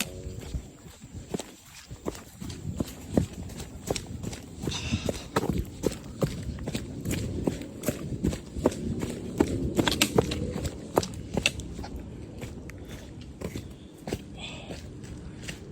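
Steady footsteps crunch along a trail, each step distinct and close, walking at an even pace for the whole stretch with no talking.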